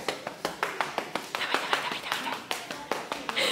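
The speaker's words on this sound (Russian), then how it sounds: "Когда так хлопаю, он сразу бежит." Sharp hand claps repeat in a steady, fairly quick rhythm, loud and close, calling a pet, with faint room sound between them.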